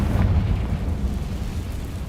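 Confringo fire curse in Hogwarts Legacy, a deep rumbling explosive roar that is dense in the low end and sustained for about two seconds without fading much.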